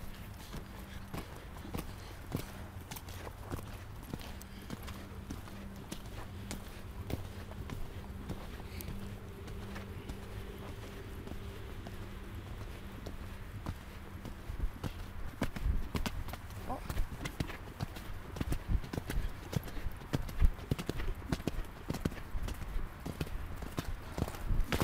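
Hooves of the mare Ebony clip-clopping in a steady walking rhythm, growing louder and livelier partway through, with a voice talking over them.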